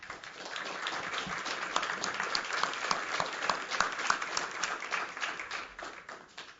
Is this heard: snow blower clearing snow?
no